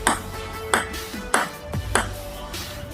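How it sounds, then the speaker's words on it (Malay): A light ball bounces steadily on a hard table, crisp clicks roughly every half second, close by, with a faint tonal hum behind. "nama pingpong ni berasal daripada ni bunyi bola ni"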